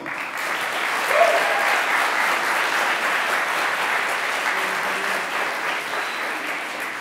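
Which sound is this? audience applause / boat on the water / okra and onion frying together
audience applause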